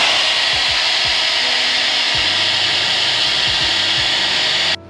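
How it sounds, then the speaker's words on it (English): A blower roars loud and close in one steady, unbroken rush of air while drying washed gym weight plates, then cuts off abruptly at the end. "You can use a blower to quickly dry the plates."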